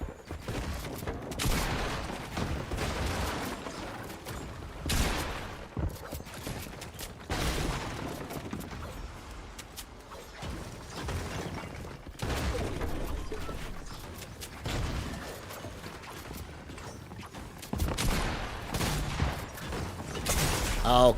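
Video game gunfire from a first-person shooter, with bursts of rapid shots and clatter recurring every few seconds across a busy, dense mix at moderate level.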